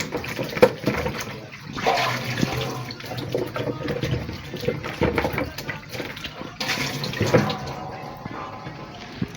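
Sweet potatoes are washed by hand under running tap water to rinse off soil and dirt, producing steady splashing and rushing water that swells and dips, close and fairly loud with no talk over it.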